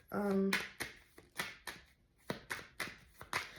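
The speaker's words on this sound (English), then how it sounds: "That was too many cards. Let me put those back." Tarot cards shuffled by hand in a series of quick riffling bursts and soft taps, close and moderately quiet, following a brief vocal sound at the start.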